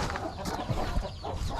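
Chickens cluck and murmur close by as they are handled for butchering and placed in a killing cone, low continuous fowl noises against a busy background.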